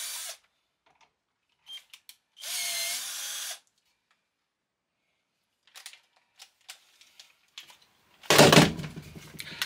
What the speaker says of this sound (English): we're just going to drill a little hole and put in that little tap ring.